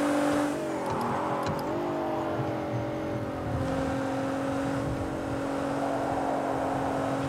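A 600-horsepower Nissan GTR racing engine in a video game, a loud sustained roar with pitch shifts as it revs and changes gear, heard alone.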